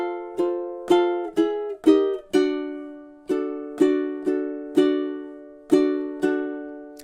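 Ukulele strums with a ringing chord tone, played as the fourth and fifth measures of a song. About a dozen close, clear strums fall in an even, steady rhythm, each one sustaining briefly before the next.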